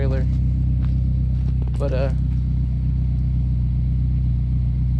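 A car engine runs at a steady idle, a constant low rumble that sounds smooth after earlier sputtering. A voice speaks briefly near the middle.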